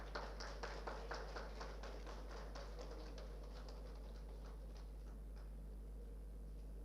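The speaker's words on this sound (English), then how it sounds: "A huge round of applause, ladies and gentlemen." An audience at the Statathon 2025 grand finale claps in a faint, sparse run of separate claps that thins out after a few seconds, far off beneath a steady low hum.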